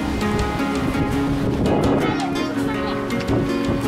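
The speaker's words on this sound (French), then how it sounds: "Non, c'est le vent, ma puce." Wind buffets the microphone outdoors in Mexico, a steady, loud roar that never lets up, with a low water-like rumble beneath it.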